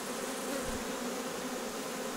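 Carnica and Buckfast honey bees hum at the hive in fine weather, a dense, continuous buzz of many insects close by and fairly loud, with no voices over it.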